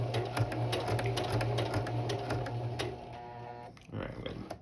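Sewing machine stitching a seam up to a marked line on a costume vest, a steady close mechanical whir with rapid needle ticks that slows and stops, with talking over it.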